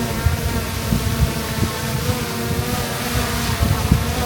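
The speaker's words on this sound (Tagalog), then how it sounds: "sobrang hangin tingnan nyo" Strong gusting wind buffets the microphone outdoors during a drone flight with a DJI Mini 4 Pro, a loud continuous roar with rumbling low thumps, no speech.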